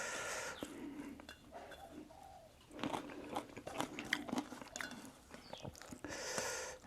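Close chewing and biting while eating Mon-style fish curry with rice, moist crunchy bites in an irregular rhythm, with no talking.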